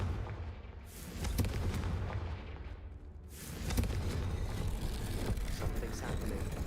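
In the video game Hogwarts Legacy, the Confringo explosion spell sets off a couple of heavy, booming blasts with low rumbling tails. The booms are spaced a few seconds apart and followed by a lingering dull roar.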